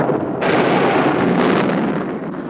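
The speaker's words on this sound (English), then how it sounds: "Thunder and lightning." A deep rumbling roll of thunder swells suddenly after a brief lull, holding loud and broad for about a second before slowly fading, with no voices over it.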